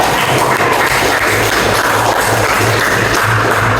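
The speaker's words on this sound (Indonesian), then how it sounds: "Ya, tepuk tangan untuk." A classroom of students claps together, a steady, fairly loud wash of applause that holds evenly for several seconds with no speech over it.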